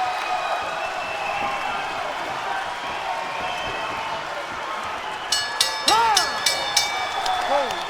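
An arena crowd at a PFL/Bellator MMA fight roars and applauds through the closing seconds of a championship round, a steady wash of noise that swells near the end with sharp impacts and a few whistles rising above it.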